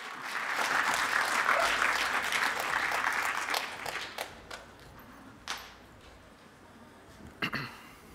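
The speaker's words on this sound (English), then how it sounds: "Please welcome with a round of applause, Kas" An audience at a talk at the A MAZE. game-culture conference in Berlin, 2023, breaks into loud, dense applause that gradually thins to scattered claps and fades, with a few isolated taps near the end.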